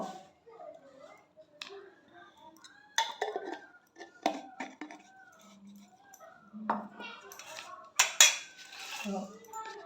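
A wet spoon clinks against a jar and bowl while pure honey is scooped out, giving scattered light metallic taps and scrapes at close range; brief clatter of dishes comes in bursts, with a few short background noises between.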